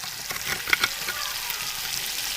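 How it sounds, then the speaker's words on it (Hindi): Garlic, ginger and green chilli paste frying with tomato in a pan gives a steady, close sizzle, with a couple of brief stirring clicks and no voices. "तो लहसुन और अदरक को कच्चापन खत्म होने तक इसको फ्राई कर लेते हैं"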